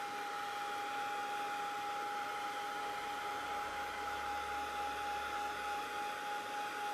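A heat tool blows steadily to melt embossing powder on a crafted butterfly, a constant loud whirring hiss with a fixed whine, running unbroken and alone throughout.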